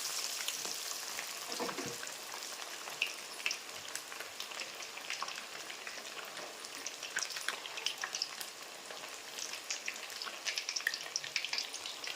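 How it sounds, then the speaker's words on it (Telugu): Small fish pakoda frying in hot oil in a pan, giving a continuous close crackling sizzle with dense popping bubbles that stays steady throughout, with no talking. "నూనె వేడైంది ఇప్పుడు చేపలు వేస్తున్నా"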